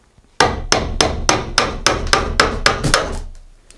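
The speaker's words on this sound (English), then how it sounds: "then just tapping that in with a hammer" Eleven sharp hammer taps in a steady rhythm, close and loud, each strike ringing briefly before the next, as lollipop sticks are tapped into a mould for a carbon fiber car bonnet.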